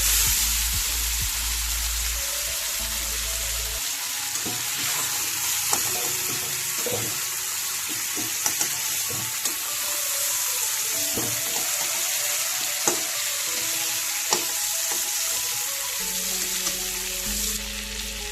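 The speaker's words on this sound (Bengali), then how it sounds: "টমেটোগুলো হালকা ভেজে নিয়েছি" Tomatoes frying in oil with a steady sizzle throughout, with occasional clinks and stirring sounds, close by and fairly loud, no voices.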